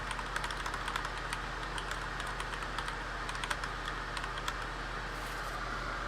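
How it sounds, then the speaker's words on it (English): Quick, light clicking of keys on a Bluetooth computer keyboard, an irregular patter of soft taps over a steady low hum, fairly quiet and alone. "Stupid Bluetooth keyboard takes a minute to recognize."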